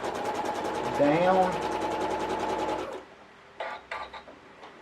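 A Janome MC1200 sewing machine stitches quilt fabric with a fast, steady mechanical whir for about three seconds, then stops. Someone speaks over and after the stitching.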